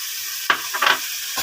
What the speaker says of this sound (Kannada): ಇದನ್ನ ನೀಟಾಗಿ ಫ್ರೈ ಮಾಡ್ಕೊಳ್ಳೋಣ